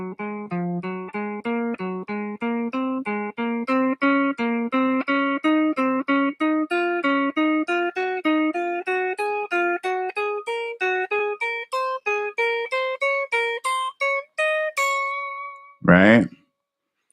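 Guitar picks a fast, even run of single notes climbing and repeating in a patterned sequence, ending with a brief burst of talk.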